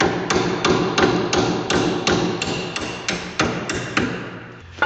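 A hammer taps a rusty bolt through a bushing, a rapid series of sharp metallic strikes, roughly a dozen evenly spaced hits, loud and close with ringing between blows.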